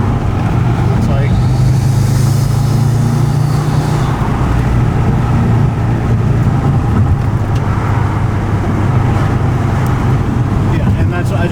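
Track-built Subaru STI engine and intake droning steadily from inside the car while driving, a loud continuous roar with a low hum that shifts pitch early on, as people talk over it.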